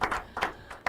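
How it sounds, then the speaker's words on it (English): Audience clapping at a school inter-collegiate quiz and debate competition, heard as three short, separate bursts of claps, moderately loud, with no talk over them. "let's clap to that one now"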